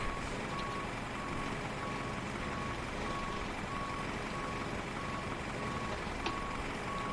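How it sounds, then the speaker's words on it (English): A fuel truck pulling away in a flight simulator, with a steady engine rumble and regularly spaced reversing beeps repeating throughout at an even rhythm. "Hooks it back up to the truck, gets in the truck, and drives away."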